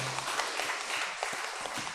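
Steady applause from a church congregation, dense clapping throughout at a moderate distance with no voices over it.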